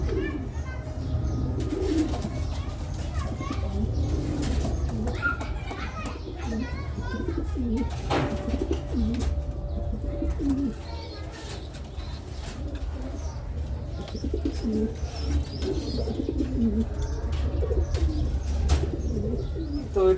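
Pigeons coo repeatedly in a loft, soft rolling calls close by alongside other bird chirps, mixed with outdoor background noise and voices of people talking nearby.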